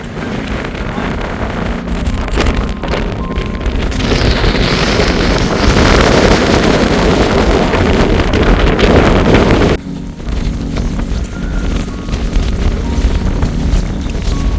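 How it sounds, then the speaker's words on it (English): Strong wind roars and buffets close by on Pen y Fan mountain, loud gusty rumble that swells in the middle, then drops to a steadier, lighter blow. "It's a little windy, as you can see"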